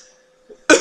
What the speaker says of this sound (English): so if I cough more, blame that on me